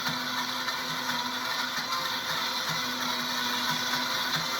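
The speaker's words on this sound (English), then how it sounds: "The best thing about the blender, it has a heated wash cycle." A steady mechanical whir with a faint rhythmic ticking runs without pause as a blender churns water through its heated wash cycle.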